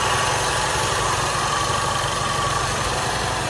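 A Volkswagen Passat 1.8 engine idles steadily with a low, even hum and a faint mechanical whir, close up and unchanging throughout, with no talking.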